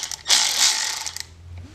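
A ratchet wrench loosening a 10mm bolt on the side of the intake manifold of an MK2 GTI 8V engine gives a close, rapid clicking burst that trails off into quieter ticks.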